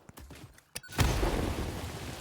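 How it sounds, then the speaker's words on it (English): An explosion set off in the factory-building video game Satisfactory, beginning as a sudden loud boom and trailing into a long, noisy rumble, with no talk over it. "Alright, explosion time!"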